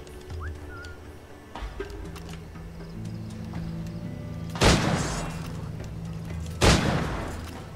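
Two loud, sharp gunshots ring out a couple of seconds apart in the naval combat of the video game Assassin's Creed IV: Black Flag, each a sudden broadband crack over a low droning game soundscape with faint bird calls.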